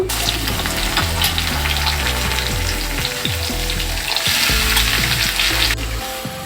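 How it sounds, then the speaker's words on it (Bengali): Grated bottle gourd hits a hot pan of fried onion and garlic, setting off a loud, continuous sizzle with light stirring noises throughout and no talking. "এবারে দিয়ে দিব গ্রেট করে রাখা লাউ"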